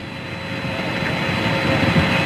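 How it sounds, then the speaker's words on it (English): Apollo 11 Saturn V second stage engines igniting in flight, a steady, dense rushing roar that holds at an even level throughout. "The second stage engines have lit off."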